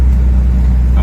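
A car's low, steady engine and road rumble on a slow test drive after new calipers, flex hoses, rotors and pads were fitted, with the brakes applied gently; the drone holds constant throughout.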